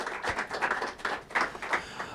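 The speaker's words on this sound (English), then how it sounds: "let's have a nice round of applause for Matt" Conference audience applauding at the close of a renewable diesel talk at the AltCar Expo in Oakland, a steady patter of many hands clapping at moderate level for about two seconds with no voices.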